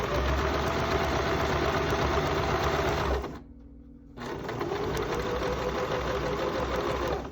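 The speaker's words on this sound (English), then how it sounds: "Oh, my sewing machine's going to act up now." A sewing machine stitches a pocket hem with a fast, steady mechanical whirr close by, pausing briefly midway before resuming at the same even pace.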